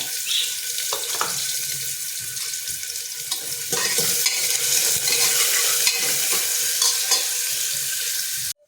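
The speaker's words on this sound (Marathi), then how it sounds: "आणि कढीपत्ता टाकणार आहोत फोडणीला" Onion and curry leaves sizzle loudly in hot oil, a dense crackling hiss that grows stronger midway, with a few clinks of stirring.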